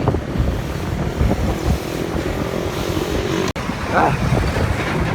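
Loud, constant headwind rushing and buffeting across the microphone of a cyclist riding, a low roar that continues throughout with a brief dropout partway through.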